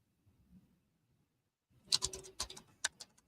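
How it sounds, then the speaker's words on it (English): Quick clicking keystrokes on a computer keyboard come in a short, uneven burst after a faint, quiet stretch, close and soft, with no talking. "So much typing."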